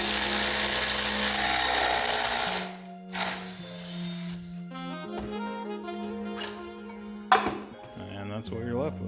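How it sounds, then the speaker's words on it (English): A dimple die tool pressing gussets for a Nissan 240sx drift car build makes a loud, harsh mechanical roar for about two seconds, then cuts off, leaving quieter tonal sounds and voices. "Using the dimple die tool for gussets."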